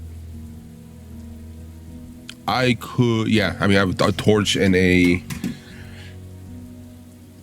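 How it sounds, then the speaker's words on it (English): Steady rain ambience patters softly beneath a tabletop role-playing game session, continuing as a faint constant hiss while a person speaks over it in the middle. "Takes you a while because it's raining."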